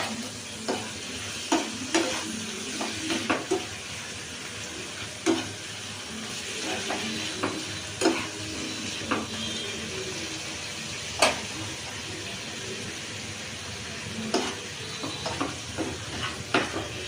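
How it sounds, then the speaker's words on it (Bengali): Chicken pieces fry in a pan with salt and chilli powder, a steady low sizzle broken by scattered stirring scrapes and clinks of a utensil every second or two. "দেখো চিকেনটা প্রায় আমার ভাজা হয়ে এসছে"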